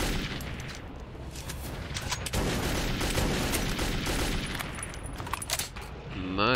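Gunfire during a firefight with an enemy in the shooter Metro 2033, a dense run of sharp shots and cracks over steady loud game noise, continuing throughout.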